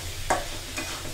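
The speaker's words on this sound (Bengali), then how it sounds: "শুটকিটাও যেন খুব ভালোভাবে ভাজা হয়।" Dried loitta shutki frying in a pan: a constant close sizzle broken by two sharp scraping stir strokes, with no talking.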